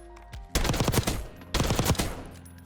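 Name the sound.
gunfire at the firing range in video game Black Ops 6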